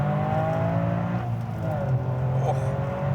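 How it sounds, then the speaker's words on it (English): A car engine runs at a steady, even drone with a layered low hum, heard close and continuous throughout, with faint voices underneath. "Oh, this engine, I love this engine."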